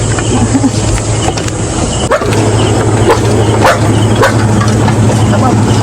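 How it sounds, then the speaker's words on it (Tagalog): Several dogs bark and yip repeatedly, some close and sharp, over a low engine hum and background voices. "Mga aso."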